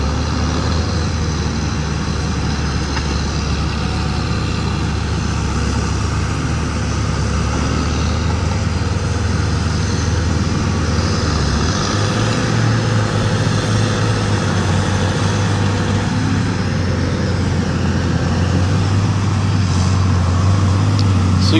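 A Deere 635D heavy machine with a 6.7 liter Cummins diesel engine runs steadily at a job site, a loud continuous rumble and drone that stays even throughout with no talk.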